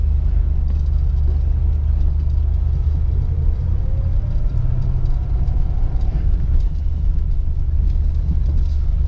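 A 1969 Lincoln Continental with a 460 engine rolling slowly at low speed, a steady deep rumble from inside the car with a faint rising whine, constant and fairly loud.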